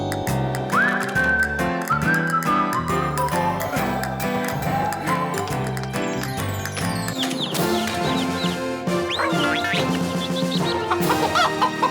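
Farm chickens cluck busily in a cartoon farmyard, repeated short clucks blended with whistling and lively music throughout, loud and continuous.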